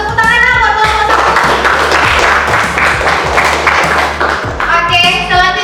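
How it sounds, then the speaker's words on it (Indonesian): Classroom group applauding the first group at a teacher-training performance test in Indonesia: dense, sustained clapping from many hands for several seconds, briefly thinning then resuming, with faint voices mixed in. "Tepuk tangan buat kelompok 1."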